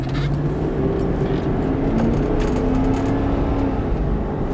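A Cadillac Escalade drives along with a loud, droning engine whose tone climbs steadily and then steps as it shifts gears, heard close from inside the vehicle.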